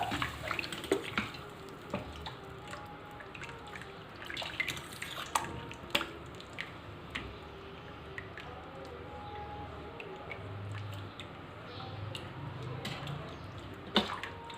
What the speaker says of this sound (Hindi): पानी थोड़ा सा और ऐड करते हैं।